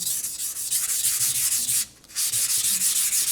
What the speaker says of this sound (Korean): 각도가 유지가 된 상태에서 일정하게 갈아줄 때 빨리 갈 수가 있습니다.